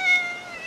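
A house cat gives one drawn-out, high tonal meow, close and fairly loud, with no talking over it.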